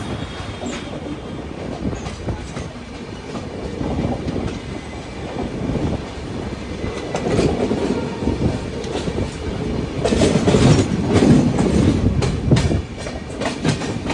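Andaman Express, an old-coach train bound from MGR Chennai Central to Shri Mata Vaishno Devi Katra, rolls past close by with continuous wheel clatter and rumble that swells louder toward the end, with faint wheel squeal.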